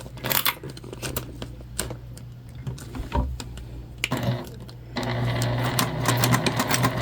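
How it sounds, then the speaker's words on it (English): A sewing machine runs in short bursts and then a steadier run while back-stitching a large tote bag, close and clear, with light handling clicks between the runs. "Still doing that nice back stitch."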